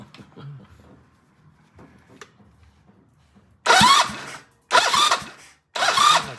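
Engine cranked over on the starter for a compression check, heard as three loud bursts of rapid whirring with short gaps between, following quieter background noise and faint movement.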